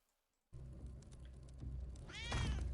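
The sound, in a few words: cats meowing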